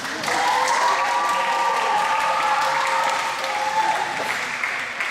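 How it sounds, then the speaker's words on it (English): A crowd at a chapel service applauds and cheers steadily, loud and sustained throughout, with a high whistling tone running above the clapping. "let's give them a big cheer for our special guest this morning"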